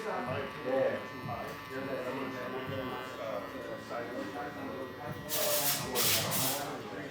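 Electric beard trimmer cutting a man's overgrown mustache and beard, a buzzing hum running under his steady talk, with a louder, harsher burst of clipping toward the end.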